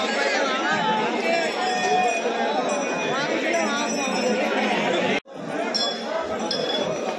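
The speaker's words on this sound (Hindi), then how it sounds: "और भीड़ बहुत है भाई, पूरी तादाद बहुत जबरदस्त वाली भीड़ है," Dense crowd chatter fills the Neelkanth Mahadev temple, a continuous loud wash of many voices with occasional clinks and bell-like tones, briefly cutting out near the end before resuming.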